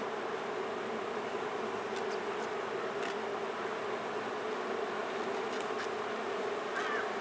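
A dense, steady buzz of agitated honeybees swarms around an opened hive during an inspection, continuous and close, with occasional faint scrapes and taps over the drone.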